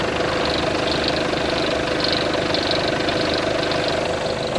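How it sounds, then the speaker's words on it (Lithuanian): A car engine idles steadily just after a slightly slow start following a period of standing unused, a hail-damaged car from auction, with a constant rumbling drone and faint knocking texture, close and unbroken, no voices. "Einam pasižiūrėsim, kaip variklis dirba."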